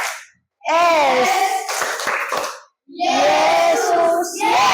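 Grade 4 primary schoolchildren in a Christian religious education class do an ice-breaking clapping game, with loud chanting voices over scattered hand claps in short rhythmic bursts.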